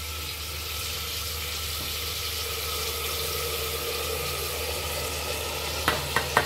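Chicken frying in a pan as a ground spice paste is added and stirred, giving a steady close sizzle throughout, with a few sharp scraping knocks from the spoon near the end.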